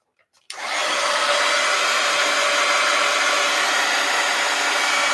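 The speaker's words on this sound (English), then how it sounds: "Let's hit this with the heat gun." A heat gun blasting hot air over glued-down paper in an art journal, kicking on abruptly after a brief quiet moment and holding a steady, loud, close whoosh without any break.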